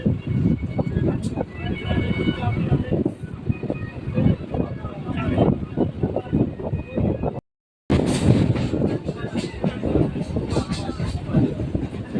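Steady rumbling clatter of a Sealdah–Hasnabad local train rolling past nearby through a station, continuous and loud, briefly cutting out midway, with voices faintly underneath.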